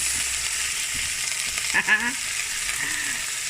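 A leg of mutton browns in a hot pan over medium-low heat with a steady close sizzle, punctuated by a short squeak and scrape as the meat is moved.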